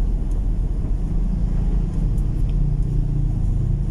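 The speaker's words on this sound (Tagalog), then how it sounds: "Medyo traffic siguro dito kabahedor." Steady road traffic in Mandaue City, Cebu, a continuous low rumble of engines and passing vehicles close by, loud and unbroken throughout with no talking.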